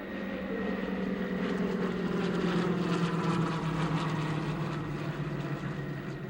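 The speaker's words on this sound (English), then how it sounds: "there's the National Warplane Museum's own R4D. That's an R4D-5" A Douglas R4D-5, a WWII Navy-era twin propeller airplane related to the DC-3, drones steadily with a loud, continuous engine roar at an air show, holding an even level throughout.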